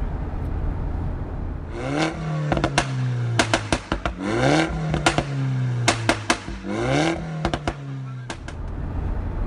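A 2018 Mazda MX-5 RF sports car on a Sydney morning drive, engine revving up and down through several rising pulls with sharp intermittent clicks and pops, steady and fairly loud throughout.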